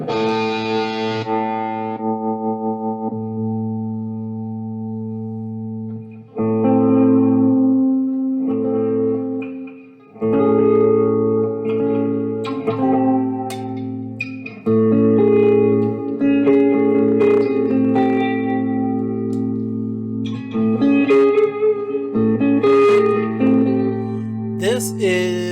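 Electric guitar played through a Fender Mustang LT25 amp on its '65 Deluxe Reverb model, a Squier Paranormal Super Sonic, clean sustained chords and picked notes with reverb tails, phrases separated by short pauses, loud and alone.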